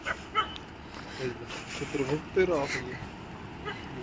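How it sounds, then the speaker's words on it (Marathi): A dog barks and whimpers a few times from a short distance, mixed in with people talking and outdoor background noise. "आम्हाला लांबूनच पाहून तो भुंकायला लागला आहे"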